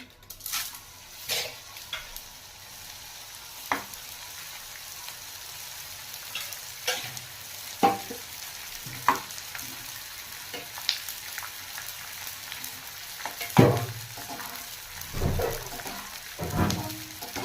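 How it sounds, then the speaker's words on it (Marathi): Edible gum fries in hot ghee with a soft, steady sizzle, broken by occasional clinks and stirring knocks, close by and without speech. "त्याच्यामध्ये आपण डिंक तळून घेऊया"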